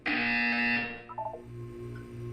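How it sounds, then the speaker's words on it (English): A loud electronic buzzer tone from the Portal 2 video game sounds for just under a second, then cuts to faint beeping tones and a low repeating hum, with no voices. "You will hear a buzzer."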